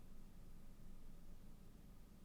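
Steady low hiss of room tone, a constant broadband noise floor with a low rumble, no voices or distinct events.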